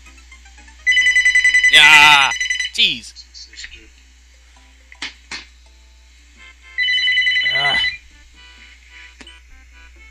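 Telephone ringing during a co-op Super Mario World gaming session, two electronic ring bursts a few seconds apart, clear and close, with people talking and game sounds in between.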